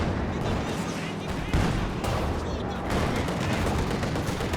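Anti-tank gun fire and other battle noise in Company of Heroes, a dense, steady wash of gunfire with a sharper heavy report near the middle, under faint game sounds.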